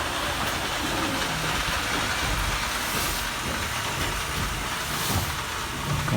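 A Märklin model steam locomotive runs around a custom model railroad layout, giving a continuous, fairly even rolling rumble with faint clicks throughout and no talk over it.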